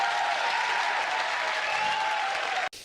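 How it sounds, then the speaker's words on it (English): A live TV studio audience at a comedy talk show breaks into loud, sustained applause and cheering that fills the room and cuts off abruptly at the end. "And the crowd goes wild."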